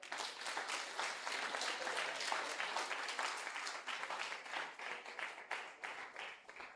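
Audience applause at a community hero awards ceremony in Red Hills, a dense, sustained burst of many hands clapping that stays steady before thinning slightly toward the end.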